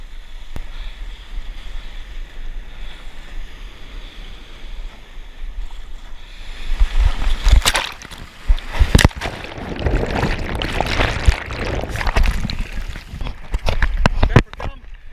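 Ocean waves and surf around a surfboard being paddled at the beach, quieter wash and wind at first, then loud splashing and crashing water in irregular bursts through the second half.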